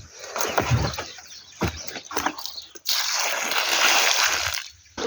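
Rainwater from a caravan's ceiling collection runs and splashes into buckets, with scattered drips and splatters followed by a steady, fuller pouring splash close by.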